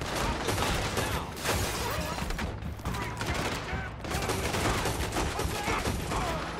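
Continuous heavy gunfire during a bank robbery shootout in Saint Denis in the video game Red Dead Redemption 2, with dense overlapping rifle and pistol shots as a loud sustained barrage and no break.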